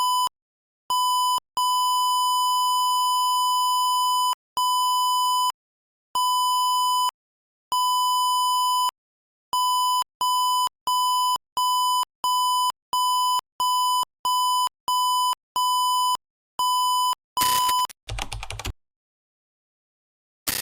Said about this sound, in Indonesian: Jika jaraknya di bawah 10 cm, maka buzzer akan berbunyi dengan cepat